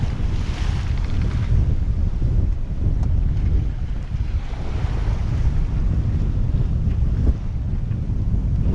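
Steady, loud wind buffeting the microphone at sea while sailing from Jamaica to Panama, a continuous rushing roar with slight gusts throughout, and no voices.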